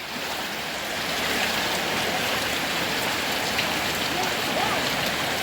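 Heavy rain pours steadily in Arusha as floodwater enters homes and shops, a dense, loud, unbroken hiss of rain on surfaces with running water beneath it.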